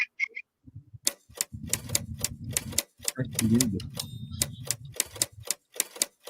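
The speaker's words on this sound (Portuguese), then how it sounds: "Adoro máquina de escrever." Typewriter keys struck in a steady run of sharp clacks, close and fairly loud, with a voice speaking briefly over the typing.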